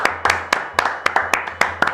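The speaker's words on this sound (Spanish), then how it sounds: "Otro aplauso, gracias" Audience applause on a Spanish-language podcast set, sharp separate hand claps in an uneven rhythm, close and fairly loud, heard alone over a faint low hum.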